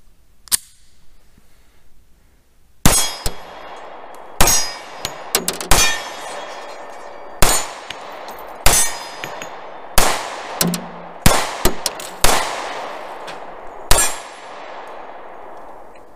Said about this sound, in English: Let's just go ahead and put some rounds through it and see how it shoots.